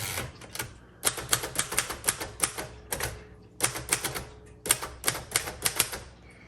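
Keys clatter on a 1958 Royal Aristocrat manual typewriter in rapid, uneven bursts, with a brief pause between bursts. The sharp strikes are close and loud, and no one talks.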